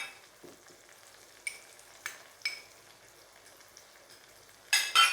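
Ginger, cumin and dry coriander frying in a pot for pulao, a soft background sizzle broken by several sharp spatters and a louder crackling burst near the end, close and without talk.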